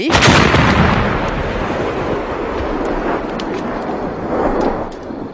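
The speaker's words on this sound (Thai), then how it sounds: "ลูกจรวดที่บรรจุอยู่ณบริเวณด้านท้ายของลำกล้องที่จุดทะยวนด้วยระบบแมกนิโตก็พุ่งทะยานออกจากปากลำกล้อง และกระทบประตูเหล็กคอนกรีตระเบิดดังสนั่นบันไหว" Rocket striking a steel-and-concrete door, a loud sudden blast followed by a long rumbling, crackling roar of debris that slowly fades, with no talking.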